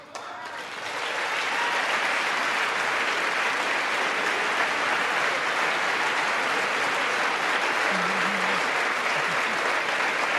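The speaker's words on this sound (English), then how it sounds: "applaud for Ronald Reagan" Sustained applause from legislators in the chamber of the 116th U.S. Congress swells within the first second, then holds as a dense, even roar of many hands for about ten seconds.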